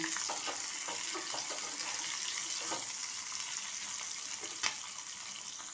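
Steady hiss of onions frying in a hot pan, with occasional scraping and clinks as they are stirred, no talking.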